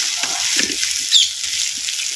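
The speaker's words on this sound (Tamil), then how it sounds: "சேர்த்த கருவேப்பிலை புதினாவையும் அப்படியே எண்ணெயில் சின்ன வெங்காயத்தோட நல்லா வதக்கி" Shallots, curry leaves and mint sauté in hot oil for a village-style mutton uppu kandam kuzhambu, giving a steady, close, bright sizzle that runs throughout with a slight swell midway.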